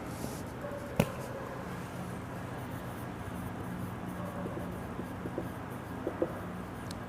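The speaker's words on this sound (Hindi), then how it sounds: "मैं हाइजीन की डेफिनेशन लिख रहा हूँ।" Chalk or marker writing a hygiene definition on a board, faint scratchy strokes with a few sharp taps, quiet against room noise, without talk.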